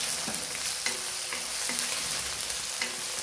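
Ginger, garlic and onion fry in hot oil in a pan for chilli chicken: a continuous close sizzle with rhythmic stirring scrapes about twice a second, and no voices.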